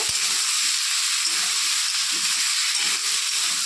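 Vegetables seasoned with salt and turmeric fry steadily in a pan, a loud continuous sizzling hiss with faint low clatter underneath and no talking.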